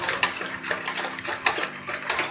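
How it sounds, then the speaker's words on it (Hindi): Egg white and sugar are whisked into warm milk in a bowl for bread dough, producing a quick, steady scraping and clinking of a whisk against the bowl's sides. "और विस्क करते जाएंगे"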